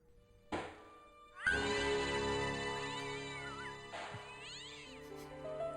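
A cat meows in the adventure game Broken Sword: The Shadow of the Templars, with two drawn-out, wavering meows a few seconds apart, close and clear over a soft musical backdrop.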